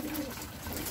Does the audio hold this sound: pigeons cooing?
yes